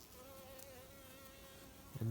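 Honey bees humming inside an open nucleus hive during queen cell placement, a steady faint drone with a clear tone throughout, ending in a louder low thump or handling noise.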